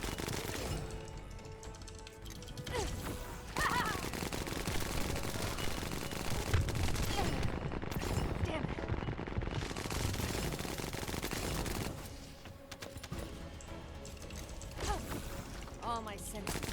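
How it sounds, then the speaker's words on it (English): Rapid automatic gunfire rattles almost continuously as a player shoots at an enemy weak spot in The First Descendant, with dense bursts and brief lulls, layered with game effects and a speaking voice. "So you'll notice I tend to shoot slightly below the intended weak spot."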